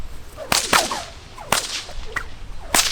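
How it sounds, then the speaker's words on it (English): Nylon whip fitted with a new cracker, cracking four or five times in sharp, high-pitched snaps spaced about a second apart, fairly close with light swishing between cracks. "The first few cracks of a whip with the new cracker will sound high pitch and not very good"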